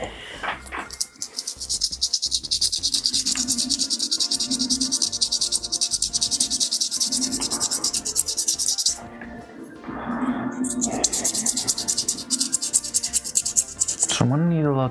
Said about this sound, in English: Coarse sandpaper to take care of this real quick and easy.